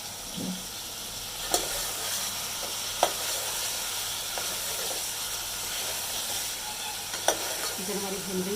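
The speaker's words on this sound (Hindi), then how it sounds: "चिकन हमारी भून रही है अदरक लहसुन पेस्ट के साथ।" Chicken frying with ginger garlic paste in a pan for achar gosht, a steady loud sizzle and hiss with occasional sharp clinks of a stirring spoon.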